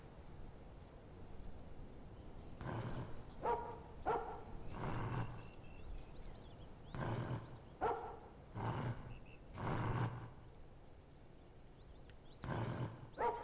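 Low growls from a creature in the game After You, several separate rumbling bursts at moderate distance over a faint background, with gaps between them.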